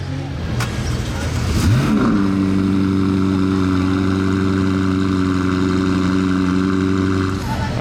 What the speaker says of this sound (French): la McLaren a démarré, mais ne part pas